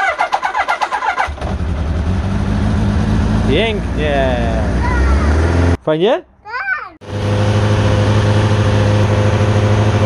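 An old motorcycle engine cranks and catches, then settles into a loud, steady idle while warming up, cutting out briefly once before running on; a few short spoken words come in over the running engine.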